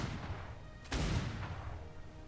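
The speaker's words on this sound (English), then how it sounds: "Return small arms fire." A burst of small arms fire from a Royal Navy ship's crew in a naval roleplay game, one sharp broadband volley around a second in, loud over a low rumbling background.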